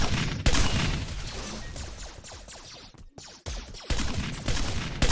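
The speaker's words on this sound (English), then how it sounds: "Bombardment." Explosive bombardment in Minecraft on a Hypixel server, with loud broadband blasts and crackling bursts repeating through the moment, a brief silent gap in the middle, and little or no talk.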